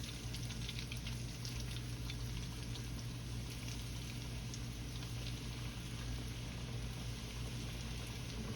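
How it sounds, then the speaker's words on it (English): Alligator tails fry in hot oil, giving a soft, steady sizzle and crackle that holds at an even level throughout, heard from a little distance with no talking. "Okay, let me get the other ones in here. I got sitting here on the side. Get these cooked off."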